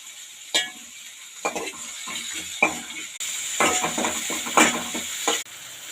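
Onion, green chilli and tomato are sautéed in a pan for carrot soup, with a spoon scraping and stirring in repeated short strokes over a soft, steady sizzle, close and fairly quiet, with no talk.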